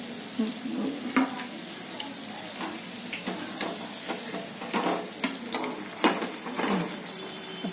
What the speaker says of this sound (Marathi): खूप छान तळल्या गेल्या हे मी काढते आता